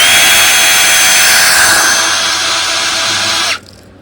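Cordless drill spinning the water pump of a 1957 Johnson 7.5 HP outboard, with a weak trickle of cooling water. A steady, loud, bright whir runs for about three and a half seconds, then cuts off abruptly, leaving faint background.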